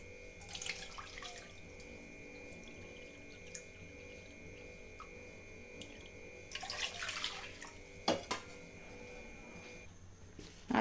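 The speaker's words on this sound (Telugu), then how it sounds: "ఇప్పుడు స్టవ్ మీద ప్యాన్ పెట్టుకొని ఏ కప్పుతో అయితే పిండి తీసుకున్నామో అదే కప్పుతో రెండు కప్పుల వాటర్ని యాడ్ చేసుకోవాలండి" Two cups of water poured from a measuring cup into a pan on a stove while making chekodilu dough, heard as splashy bursts near the start and again midway, close and fairly quiet with no talk.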